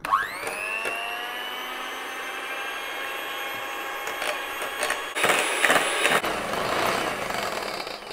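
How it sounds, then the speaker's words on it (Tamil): An electric mixer whips half a cup of double cream for a keto strawberry fool, giving a steady, high-pitched motor whine that stays even for several seconds, then turns rougher and louder near the end. "டபுள் க்ரீம் விப்பிங் க்ரீம் எடுத்து நம்ம நல்லா விப் பண்ணிக்க போகிறோம்"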